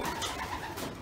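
Racing pigeons coo steadily inside a breeding loft at the Verstraete racing pigeon loft, a soft continuous murmur of many birds close by, with no talk.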